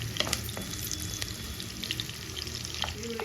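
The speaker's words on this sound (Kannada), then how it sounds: "ತುಪ್ಪ ಬಿಸಿಯಾಗಿದೆ. ಈರುಳ್ಳಿ ಹಾಕೊಳ್ತಾ ಇದ್ದೀನಿ." Sliced onions fry in hot ghee for a spicy Mangalorean chicken ghee roast, giving a steady, close crackling sizzle with scattered pops.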